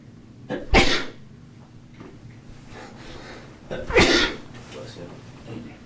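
Two sneezes from a person nearby, one sharp burst early and a second about three seconds later, with quiet room tone and faint breathing between them.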